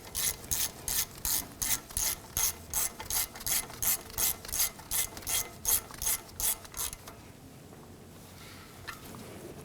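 Hand ratchet snugging bolts on a Jeep Wrangler front wheel hub, a steady run of about sixteen crisp, evenly spaced clicking bursts close up, then stopping into quiet.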